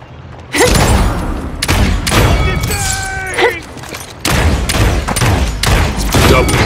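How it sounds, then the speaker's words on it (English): Enemy weapons fire in the Paladins shooter game: loud, rapid bursts of shots and thumping impacts, repeating in dense volleys with brief gaps and a faint voice or effect tone partway through. "They're firing on me."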